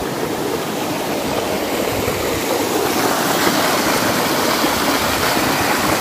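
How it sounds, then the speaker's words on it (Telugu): Vasthapur waterfall near Nirmal thunders continuously, a loud, close, unbroken rush of falling water with no voices over it. "ఇది waterfall, this is the waterfall."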